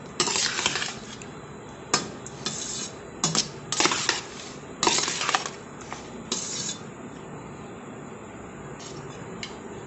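Clinking, scraping strokes of a spoon mixing puliyodarai tamarind rice in a pot, irregular close taps and scrapes with pauses between, no talking.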